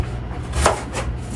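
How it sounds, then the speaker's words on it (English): Washed ginger is chopped into small pieces with a knife, producing a single soft chop against a steady low background hum in a kitchen. "Cutting the ginger."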